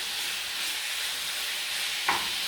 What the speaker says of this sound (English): we will be frying them until we see that our chicken will become white